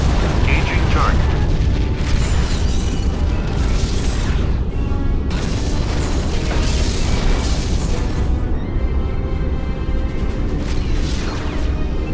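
A starship exploding as a Romulan vessel is destroyed in the Star Trek: Legacy game on Xbox 360, a sustained loud rumbling blast with crackling bursts, heard under a faint synthetic voice and a steady ambient hum.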